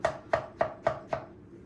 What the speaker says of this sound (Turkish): Domatesi ne kadar ince doğrarsanız o kadar iyi olur.